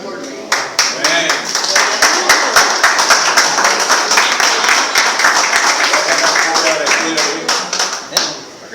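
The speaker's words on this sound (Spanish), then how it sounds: "Dame un aplauso al Señor por mí." A congregation at a Bible study applauds steadily, dense clapping of many hands close and loud for about eight seconds before tapering off, with some voices mixed in.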